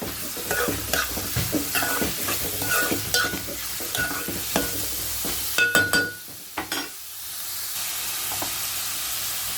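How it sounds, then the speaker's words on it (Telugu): Onions fry and sizzle in a pan for making chicken iguru while a utensil stirs them, scraping in a quick irregular rhythm before the stirring stops and a soft sizzle carries on alone. "ఒకసారి ఆనియన్స్ ఇలా తిప్పుకుని"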